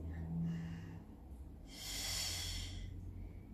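A person exhaling forcefully through the mouth and nose during an oblique core exercise, a breathy push of air lasting about a second, preceded by a quieter breath, close and faint with no talking.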